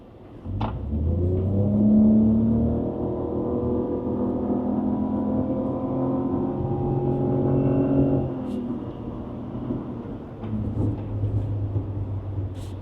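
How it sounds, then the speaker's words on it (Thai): A 2013 Lexus RX450h hybrid SUV in sport mode accelerates hard, a rising engine drone heard from inside the cabin that holds for several seconds, then cuts back to a lower hum. "เดี๋ยวผมจะลองเหยียบให้ดูนะ"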